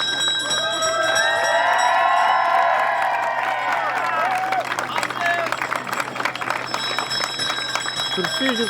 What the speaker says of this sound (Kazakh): қоңырау, қошеме тұрайық